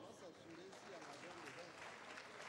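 Faint applause from the audience at a sports awards night as the best female first-division referee is honored, a soft continuous patter with a voice speaking over it.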